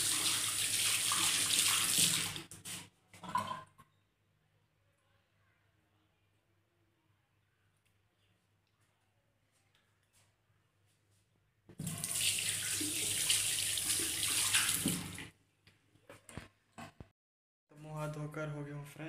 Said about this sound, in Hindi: और टूटी खोलते हैं, खुल जा सिम सिम